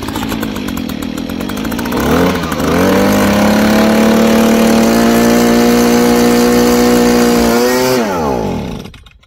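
Stihl handheld leaf blower with an aftermarket fuel system kit, loud two-stroke engine held at wide open throttle, revving up and holding a steady high whine that wavers as it stumbles, then dropping off near the end.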